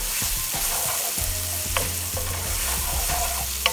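Sautéing in a hot pan for Cajun wild rice, a steady close sizzle with repeated spoon scrapes and stirring knocks throughout, no talk.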